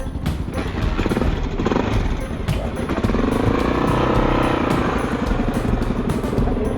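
Honda XR600R dual-sport motorcycle being started and revved on a roadside in Ethiopia, its close, loud engine rattling and surging in uneven bursts of throttle.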